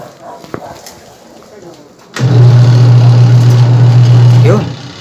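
A washing machine motor starts up and runs after its capacitor has been replaced, a loud steady low hum that begins abruptly midway and holds for a couple of seconds before winding down, preceded by faint handling noises.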